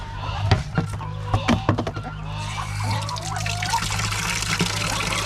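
Water is poured and trickles steadily for thirsty fowl, with geese honking and people talking over the close liquid flow.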